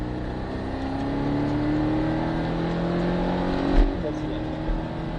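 A Porsche 718 Cayman S engine on a race circuit, a steady sustained drone with a slowly rising pitch, heard from inside the car, with talk over it and a brief bump near the end.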